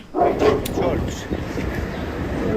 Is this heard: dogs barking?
yes